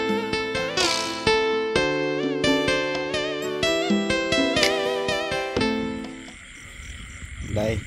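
Frogs croaking at night after heavy rain, repeated loud, close, twangy calls overlapping in a busy chorus with a faint insect hum beneath.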